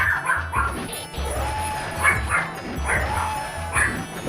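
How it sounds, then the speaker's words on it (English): Small 4-pound Pomeranian yapping in a quick series of sharp, high barks with some whimpers, close by and fairly loud over faint game sounds and a little background voice. "My bad, I got my dog barking."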